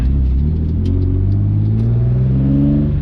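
A BMW E30 with a swapped-in S50 engine pulls hard under acceleration on the road, its loud, deep exhaust note rising steadily in pitch with the cabin rumble close and continuous.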